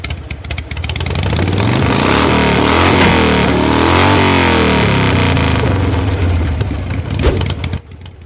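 A motorbike engine revs loudly and close, with a rising and falling drone that holds for several seconds before cutting off sharply near the end.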